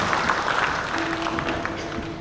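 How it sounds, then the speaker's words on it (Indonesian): Moderate applause from the audience at a Bali provincial legislature session during the governor's address, a steady wash of many hands clapping with a faint sustained tone running under it. "Tepuk tangan untuk kita semua"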